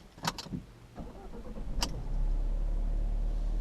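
An Alfa Romeo Giulietta QV engine hums and builds steadily into a sustained low drone, with a couple of brief sharp clicks early on before the engine sound swells.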